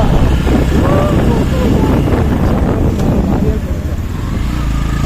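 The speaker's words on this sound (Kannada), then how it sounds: "ಬೈಕಲ್ಲಿ ಹೋಗ್ತಿದೀವಿ ನೋಡಿ" Riding on a motorcycle, a steady engine rumble runs beneath heavy wind buffeting on the microphone, with a voice talking over the ride throughout.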